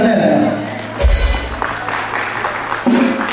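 A congregation claps in a French-speaking church service, with rough, uneven applause rising and falling under a voice that leads and praises over it.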